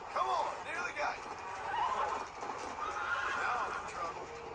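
Apocalypse horse in Red Dead Redemption Undead Nightmare, several loud whinnies and neighs rising and falling across the stretch, with hoof clip-clop and shuffling underneath.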